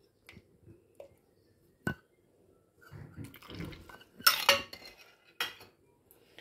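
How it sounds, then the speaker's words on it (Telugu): A spoon stirs custard powder into boiled milk in a pot, making scattered scraping clinks and knocks against the metal that grow busier and louder midway, with no talk. "కాచిన పాలల్లో వేసి కలుపుకుంటున్నాను చూడండి ఫ్రెండ్స్ చిక్కగా"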